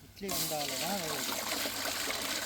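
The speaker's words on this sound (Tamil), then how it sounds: "இப்போதைக்கு முட்டை அவிக்கிறதுக்கு தண்ணி ஊற்றிக்கிறோம்" Water splashes and pours steadily into a pot for boiling eggs, a continuous gushing stream with a brief voice-like tone early on.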